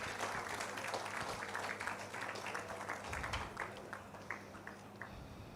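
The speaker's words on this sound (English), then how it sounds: "Let's give him a round of applause." Applause from the audience fills a banquet hall at an anniversary awards evening, a steady, moderately distant wash of clapping that gradually thins out.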